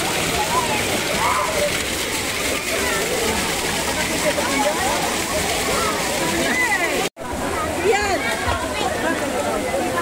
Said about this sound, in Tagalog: Lamig ng tubig na lumalabas sa lupa oh.